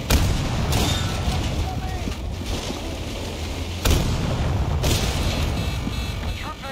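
Explosions from a thrown explosive in Battlefield 2042 amid a dense, loud battle, with two sharp blasts standing out over continuous rumbling combat noise.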